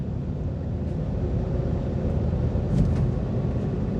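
A BMW E61 530xd estate with the M57 3.0-litre diesel and over 400,000 km on it cruises along, giving a quiet, even, low engine and road hum heard from inside the cabin.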